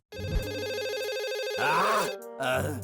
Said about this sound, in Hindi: ये सर का फोन होगा